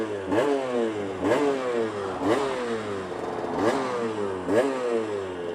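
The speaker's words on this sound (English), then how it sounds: "I'm not going to just straight away pull away from here at max RPM." Aprilia RS125 two-stroke motorcycle engine revving repeatedly, rising whines cut off by gear changes about once a second as it pulls away, loud and close with no talk.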